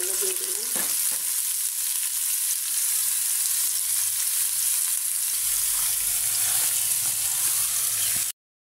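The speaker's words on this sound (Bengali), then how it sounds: "করলা ভাজি করবো, করলাগুলো দিয়ে দিলাম।" Bitter gourd frying in a pan, a loud, dense, close sizzle holding steady throughout with a few faint stirring knocks, then ending abruptly.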